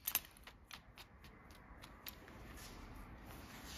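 Hair shears snipping hair during a pixie cut for an older woman, a few quick close crisp snips at the start, then a soft faint rustle of hair and comb.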